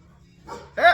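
A pet dog, a male called over as a good boy, gives a couple of short, loud barks near the end after a quieter stretch with faint vocal sounds.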